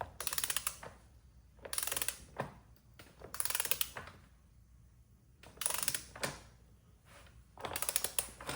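Fast ratcheting clicks from a wrench tightening a bolt on an ATS 8HP automatic transmission during a build come in four bursts separated by quiet pauses, close and clear.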